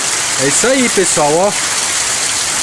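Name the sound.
rain falling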